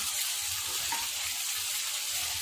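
Tomatoes and green chilies go into potatoes frying in a pan for a Punjabi aloo moongre sabzi, giving a steady, loud, continuous sizzle that fills the clip without pause.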